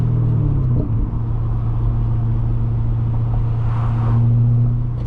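A 400+ horsepower C6 Corvette engine idles with a steady, loud low rumble that swells into a brief rev near the end, heard alone without talk.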